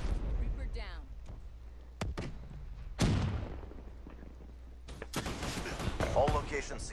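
Gunshots in Call of Duty: Black Ops 3 online multiplayer on PS3, sharp cracks and short bursts around two, three, five and six seconds over game ambience, with a voice talking underneath.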